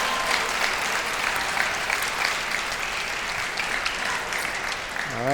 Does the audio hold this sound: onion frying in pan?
no